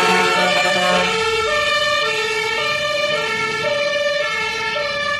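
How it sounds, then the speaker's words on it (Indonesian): A toy fire truck's electronic siren wails steadily and close, with stepped alternating tones running through the whole five seconds and no talking over it. "yang ini mobil pemadam kebakaran"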